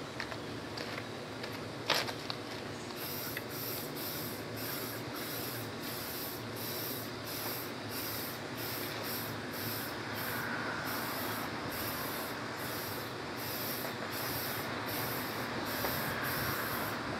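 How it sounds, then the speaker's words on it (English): An aerosol of tire shine hisses in a long, steady spray onto a Ford Mustang V6's tire sidewall, broken by brief pauses and faint rhythmic clicks, heard up close with no voices. "So I'm going to spray it light, see if I can get a clean coat."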